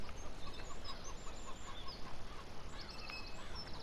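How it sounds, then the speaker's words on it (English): Chickens cluck and squawk on a farm in Farming Simulator 17: scattered short calls over a dense, steady farmyard background, moderately close, with no talking. "there's a good number of chickens here at the farm"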